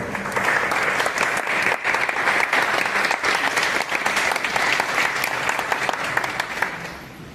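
An audience applauding at a book presentation for 'La Constelación de Asherá', a loud sustained burst of clapping from many hands that tapers off slightly at the end.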